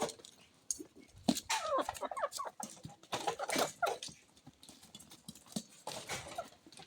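Chickens and ducks on a poultry farm scrap over thrown maize, giving a close, busy run of clucks, squawks and scuffling bursts in irregular rhythm, with no talk.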